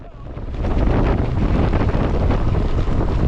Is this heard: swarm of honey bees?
no